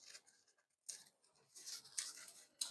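Scissors snip through paper lining for a cake pan during baking, a few short crisp cuts and rustles close by with brief pauses between them.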